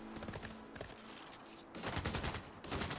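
Artillery field cannon fire in the video game Civilization VI, heard as a faint, rapid crackle of repeated shots that grows into a denser, louder burst of gunfire-like bangs partway through, with no voices.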